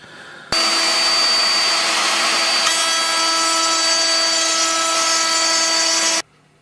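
Power tool cutting a groove along the mating face of a wooden door part for loose-tongue joints: a loud, steady high whine starts abruptly, holds evenly for about six seconds with a slight shift partway, then cuts off.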